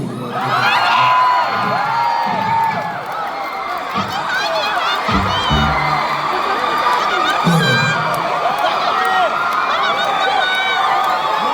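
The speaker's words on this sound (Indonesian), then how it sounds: "Tepuk tangan dulu buat Safi." A live rock concert crowd in Makassar roars with cheers, whoops and shouts, loud and sustained throughout, while a person talks over the noise.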